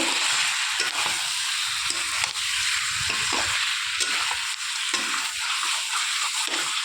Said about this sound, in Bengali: লবণ আর হলুদ দিয়ে দিলাম, দিয়ে এবার নেড়ে চেড়ে মিশিয়ে নেব